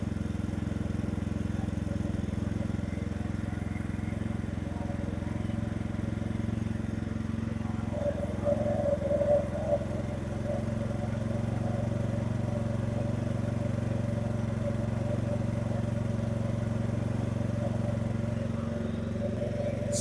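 A Powersmart 3600 watt budget inverter generator runs in eco mode, a steady engine drone that holds even, with a brief rise in the middle and no talking.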